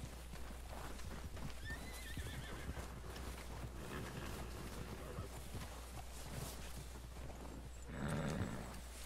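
An Arabian horse in Red Dead Redemption 2 whinnies in a rising call early on and again more loudly near the end, while its hooves clip-clop steadily throughout over a low constant hum.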